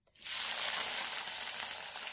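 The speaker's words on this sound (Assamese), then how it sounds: "তেল গৰম হৈ গল এতিয়া আমি পিয়াজখিনি ঢালি দিম ইয়াত" Onions tipped into hot cooking oil burst into a loud, sudden, continuous sizzle that starts abruptly and holds steady, close and without talk.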